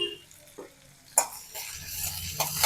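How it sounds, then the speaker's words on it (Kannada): Sliced onions with cumin and kasuri methi fry in a pan as they are stirred, with soft scraping strokes and a low sizzle that swells in short bursts, close and fairly quiet. "ಇದನ್ನು ಫ್ರೈ ಮಾಡಿಕೊಡ್ರಿ."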